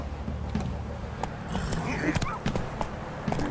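Roach, a horse in The Witcher 3 video game, trotting with a steady clip-clop of hooves, fairly close, over a continuous low game background rumble.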